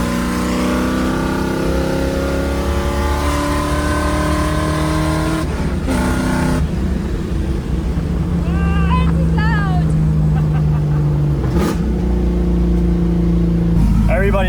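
A drift car's engine drones loudly and continuously at Freedom Factory, rising and falling in pitch as it revs and shifts, close to the listener, with people talking over it.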